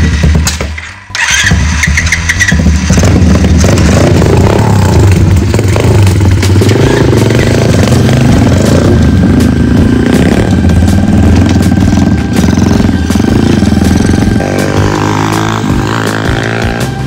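A Sharmax motorcycle engine starts with a clatter, then revs loudly and steadily up close before pulling away, its pitch shifting near the end.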